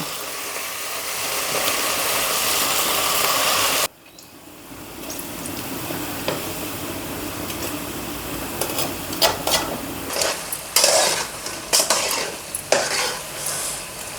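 Small punugulu fritters made from idli batter sizzle and fry in hot oil in a steady hiss, with metal stirring and scraping clinks growing busier in the later part.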